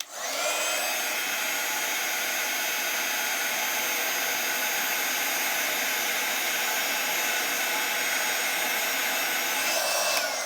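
A heat tool blowing and whirring steadily at close range for about ten seconds while it heats metallic silver embossing powder on a card, a loud, even airy roar that starts and stops abruptly.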